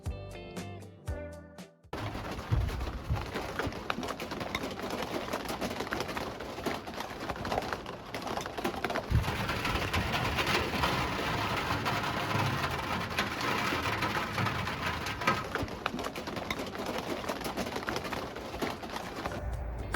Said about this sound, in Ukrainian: в цей вечір почався дощ, який нам дав можливість почути різницю між стелею з утепленням та металом без будь-якої обклейки